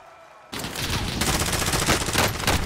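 Video game gunfire erupts suddenly after a quiet moment and continues as dense, rapid automatic fire, loud and close, for a couple of seconds.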